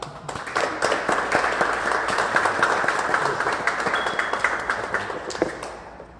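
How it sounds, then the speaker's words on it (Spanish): An audience at a conference applauds the speaker with sustained, crisp clapping, individual claps audible within the steady mass, fading slightly toward the end. "pedirle también un fuerte aplauso antes de comenzar"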